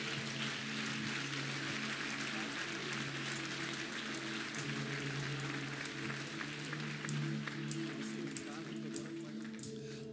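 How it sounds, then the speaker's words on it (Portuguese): A church congregation claps together after a pastor's prayer, a broad, even wash of applause lasting throughout, with a low steady hum underneath and occasional sharper claps standing out. "Dê um aplauso ao Senhor por isso"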